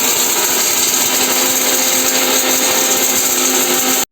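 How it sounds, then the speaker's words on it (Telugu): A kitchen mixer grinder runs steadily, grinding about 20 cashews with a little water into a smooth paste; the loud, continuous motor whir holds for roughly four seconds before cutting off abruptly. "అందులో 20 కాజులు వేసి కొన్ని వాటర్ పోసి మిక్సీ కొట్టుకుందాం"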